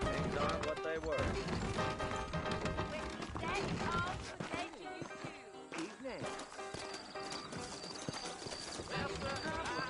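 Horse hooves clip-clopping in the Western video game Red Dead Redemption, a steady trot under a dense layer of game sound and music, with someone talking over it.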